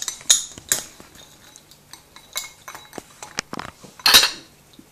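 A Liftware stabilizing spoon scrapes and clinks against a dry bowl of nuts, with sharp irregular clatters and rattles close by, a loud burst near the end, and quieter gaps between.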